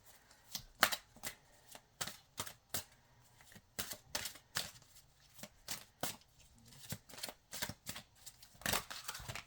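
Oracle cards being shuffled by hand, a rapid run of close, crisp riffling and slapping bursts that repeat in quick uneven clusters with no talking.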